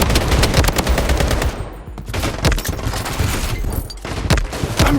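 Rapid automatic gunfire bursts in the shooter game Blood Strike, loud and close with a brief lull before the firing resumes, sustained and dense throughout.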